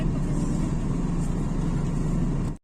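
A vehicle's engine runs steadily and fairly close while it is turned around, a continuous mid-range motor drone that cuts off abruptly at the end.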